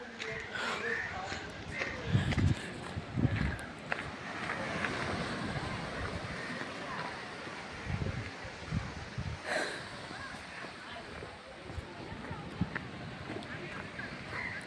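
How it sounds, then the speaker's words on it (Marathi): Ocean waves wash onto the seashore in soft, repeated surges under blustery wind noise, with a person talking over the steady roar. "सगळ्या येणाऱ्या लाटा ह्या आता आपणास दिसणार आहेत"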